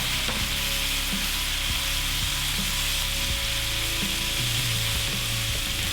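Prawns with garlic sizzle and fry steadily in a hot pan or wok as a splash of Chinese rice wine goes in, with a constant bright hiss and occasional clinks and stirring knocks, no voices.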